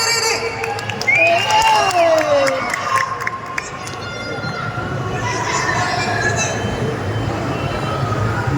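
A big crowd at Lulu Mall in Kochi cheers and claps for actor Prithviraj at the audio launch of the film I Nobody. It is a steady, dense roar of voices and applause that fills the space, with an amplified voice rising briefly near the start.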